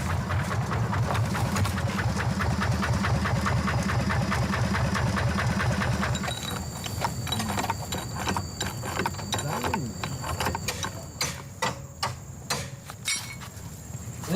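The homemade engine of a forest transport vehicle in Sumatra chugs with a rapid, rhythmic knocking for about six seconds, then drops away, leaving scattered metallic clanks and rattles that sound like someone working on it.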